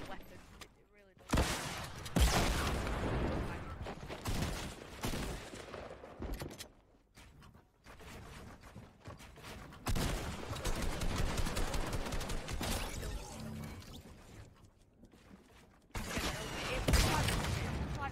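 Rapid SMG gunfire from the video game Fortnite, with loud sustained bursts of automatic shots and brief gaps between them, mixed with game mechanism sounds.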